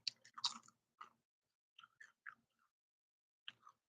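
Crunching bites into a thick, crunchy seasoned corn chip, a few loud crisp crunches up close followed by several quieter, spaced chews in an otherwise silent room.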